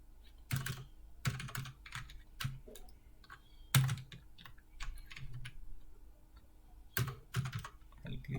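Python code is typed on a computer keyboard in irregular bursts of close, crisp key clicks separated by short pauses, with no talking.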